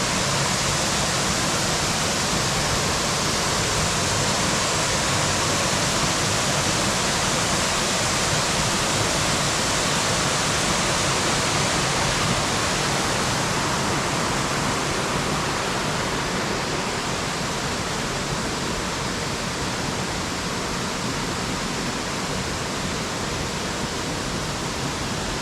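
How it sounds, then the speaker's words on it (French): A waterfall in Hawaii roars close by as a dense, unbroken rush of falling water, loud and steady throughout with no other sounds on top. "Elle est belle cette cascade, t'as vu, elle vient du fond là-bas."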